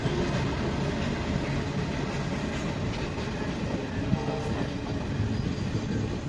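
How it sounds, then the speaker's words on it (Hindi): Passenger train on the Londa to Belagavi railway line running steadily along the track, a continuous loud rumble and rattle of wheels and wagons close by without pause. "अपनी ट्रेन चले जाएगी बेलगावी की तरफ।"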